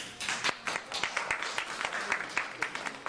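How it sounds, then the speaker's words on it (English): Scattered hand claps ring out at a child sex abuse conference in Northern California, a brief burst of separate slaps from the audience at moderate distance, with no talking. "Hold your applause."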